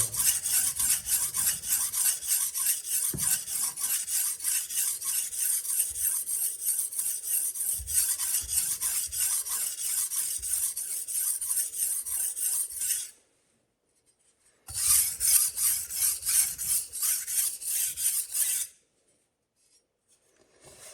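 A kitchen knife is drawn over a whetstone in fast, even rasping strokes, loud and close. The strokes run continuously, pause briefly, resume, then stop.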